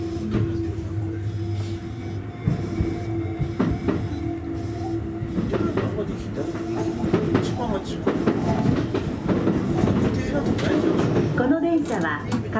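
A Sotetsu 20000 series electric commuter train on a local run between Ebina and Yokohama rolls along the rails with a steady rumble and clatter and a whining motor tone; voices talk nearby over the noise.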